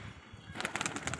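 A sudden flurry of wing flaps as pigeons burst into flight, close and fluttering, after a brief quieter moment.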